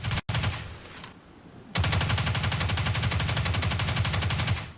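Riskrunner submachine gun from Destiny 2 firing in long rapid full-auto bursts, loud and close, with a brief pause between an opening burst and a sustained second stream of shots.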